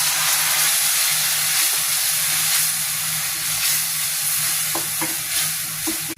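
Boiled water hits hot frying masala for a tuna pickle, giving a loud, steady sizzle and hiss that holds throughout with small stirring clinks near the end.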